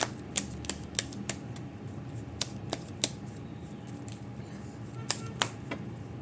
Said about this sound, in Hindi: एक आध बार शफल और कर देती हूँ